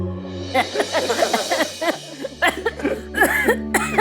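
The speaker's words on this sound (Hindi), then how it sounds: "कितनी खांसी हो रही है।" Repeated bursts of coughing, close and fairly loud, in quick irregular fits mixed with a few wheezy, laugh-like breaths.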